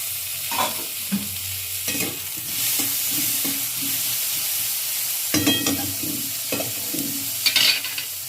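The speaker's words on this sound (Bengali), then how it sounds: "আদা রসুনটা দিয়ে একটু ভেজে আমি তার মধ্যে টমেটোটা দিয়ে দিলাম" Tomato frying with ginger and garlic in a pan for egg curry, a continuous sizzle under several clattering stirs and scrapes of a spoon, close by with a brief lull midway.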